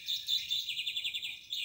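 Bright, high bird chirps repeat in a quick, steady run for under two seconds, fairly soft and close, with no voices over them.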